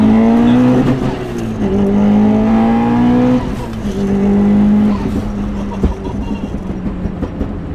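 A 600 WHP Subaru WRX on nitrous pulls hard through the gears, its loud engine note climbing in rising sweeps with shift breaks between them, heard close from inside the car.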